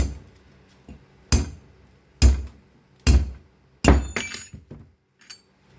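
A hammer strikes seized bolts on a T3/T4 hybrid turbo during a rebuild in a series of sharp, ringing blows, about five hits spaced roughly a second apart, close and loud.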